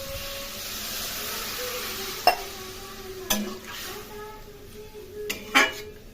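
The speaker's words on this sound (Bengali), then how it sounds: "কষানো হয়ে গেছে, এখন জল দিয়ে দেবো।" Broccoli curry sizzles steadily in a hot pan as water goes in, with a few sharp clinks of a utensil against the pan.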